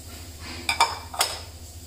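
Chopped onion and tomato drop into a mixer jar with a few quick clinks and knocks against the jar, three brief close sounds over a quiet room hum.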